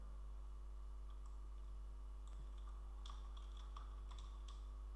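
Someone types a short word on a computer keyboard, producing a quiet burst of separate key clicks that bunch together in the second half over a low, steady hum.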